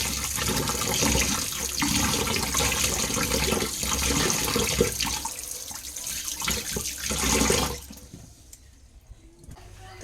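Rice is rinsed under running water in a home kitchen, a steady splashing gush from the tap that carries on for about eight seconds before cutting off, leaving a few faint drips.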